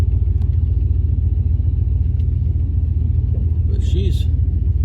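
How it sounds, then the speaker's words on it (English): A 1987 Chevrolet Monte Carlo's 305 V8 engine idles steadily with a deep, even low rumble throughout, close by, with a brief higher chirp near the end. "I'm just really impressed with the way this car is running"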